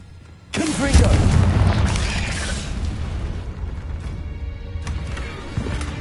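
A Confringo spell explodes in Hogwarts Legacy with a sudden heavy boom, followed by a long rumbling, crackling roar of debris and fire, then a smaller burst near the end, loud and close.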